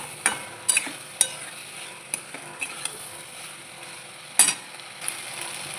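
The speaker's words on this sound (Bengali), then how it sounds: "এটাকে কষিয়ে নেবো মশলার সাথে কচু আলুটা।" Taro and potato fry with spices under a low, steady sizzle. Sharp scraping and clicking spatula strokes against the pan come at irregular intervals, close by, with one heavier scrape near the end.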